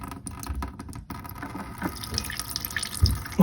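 Water drains and drips from a toilet tank during fill valve replacement, a steady trickling and splashing close by with a few louder drips toward the end.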